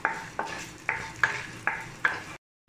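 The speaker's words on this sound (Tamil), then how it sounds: "இப்போ இதெல்லாம் கொஞ்ச நேரம் நல்லா வதங்கட்டும்" Spices and peppercorns saute in a pan for curry leaf rice, with six evenly spaced scraping strokes of a spoon over a soft sizzle, close and clear with no talking.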